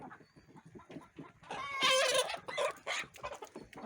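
Chickens cluck and squawk in a small flock of naked-neck hens and roosters, some sneezing and wheezing, with irregular close calls and a louder burst in the middle.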